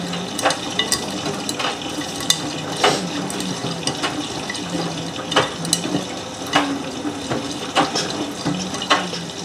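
A Miele W562 washing machine fills with water through the porthole door, a steady close splashing and trickling with intermittent sharper spurts and clicks, and no one speaking.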